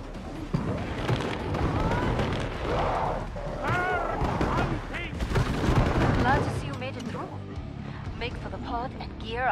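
Gunfire in the video game Killing Floor 2, with repeated shots and bursts crowding a busy, loud mix of game effects while someone talks over much of it.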